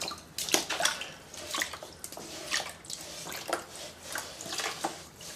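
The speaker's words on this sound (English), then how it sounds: "I can clean off this junk pretty easily just using my sponge and some water" Water splashes and trickles in uneven bursts as a sanding block is scrubbed and rinsed with a wet sponge, close by, with no talking.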